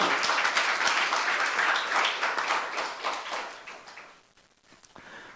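A church youth congregation claps together in a loud, dense burst that gradually thins and fades over a few seconds, with a few scattered claps lingering at the end.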